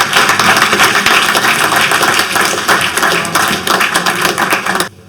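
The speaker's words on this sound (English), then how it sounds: "Big round of applause for our panelists, please." A round of applause from the audience for a panel at a congressional hearing on UAP, science and national security, with dense, steady clapping that stays loud and even before stopping abruptly near the end.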